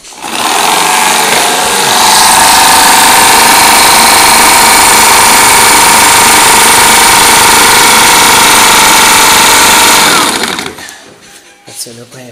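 A water-fed machine cutting through plexiglass runs loud and steady for about ten seconds, a dense continuous grinding whine, then stops and leaves brief quiet workshop noise.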